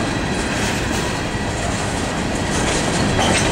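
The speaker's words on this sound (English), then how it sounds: "And this train will soon release as it ends clearing the south end switch down there." A CSX freight train rolls steadily past at a siding near the Duk switch, producing a loud continuous rumble with rhythmic clickety-clack of wheels and faint squeal, with no voices.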